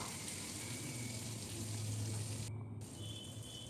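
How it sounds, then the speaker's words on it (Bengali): Fish heads frying in oil, turned to cook on both sides, give a steady, close, continuous sizzle and crackle that holds at an even level throughout. "আমিও মাছের মাথা টুকরো দুটো খুব ভালো করে এপিট ওপিট করে ভেজে নেব"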